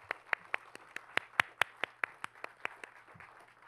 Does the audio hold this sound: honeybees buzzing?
no